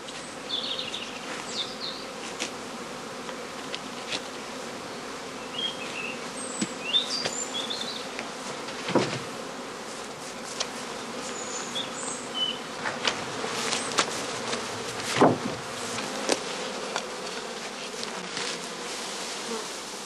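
Honeybees buzz continuously around straw skeps sealed with covering cloths, a dense drone with individual bees whizzing close by and fading, moderately loud without speech.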